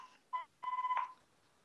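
An office telephone sounds with short electronic tones, two brief beeps followed by a longer steady tone, faint and somewhat distant in a quiet room.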